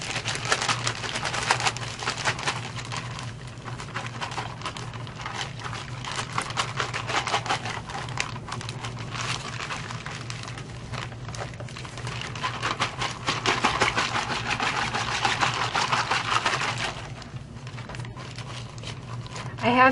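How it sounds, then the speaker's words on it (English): A plastic bag of Cool2Cast powder and water is shaken hard, giving a steady rustling, crinkling patter that keeps going for many seconds, close and fairly quiet, with talking over it at times. "give it a good shake and mix it up for about a minute."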